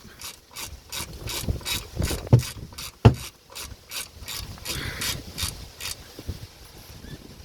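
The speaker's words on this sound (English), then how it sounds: "bring down the bracket, tighten up" A hand ratchet tightens the brake caliper bracket bolt on a Skoda Fabia, giving a quick run of close, crisp clicks with a couple of sharper knocks midway.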